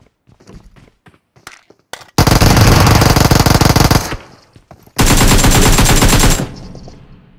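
Shotgun fire in PUBG Mobile, two long, loud sustained bursts of rapid, dense blasts, preceded by quiet scattered clicks and footsteps.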